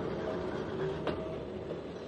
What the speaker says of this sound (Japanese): 在来線機関車がダブルトラバーサ上の橋脚を通り、トラバーサ上で新幹線貨車内のコンテナ貨車を連結し、ゆっくりとコンテナ貨車を引き出します